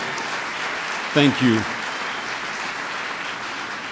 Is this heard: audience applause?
yes